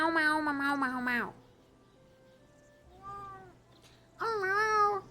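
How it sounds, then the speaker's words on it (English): A cat meows three times in long, drawn-out calls, with quiet pauses between the cries. The meows are close and fairly clear. "She's going meow meow meow meow meow meow"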